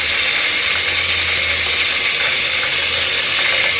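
Ginger garlic paste hitting hot oil with bay leaf, cinnamon, cardamom and pepper, giving a loud, steady, close-up sizzle with a hissing, steamy texture throughout.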